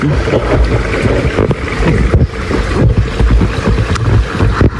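Floodwater flowing down from upstream, a steady broad rushing wash close to the microphone with some wind buffeting, continuous throughout with no talk.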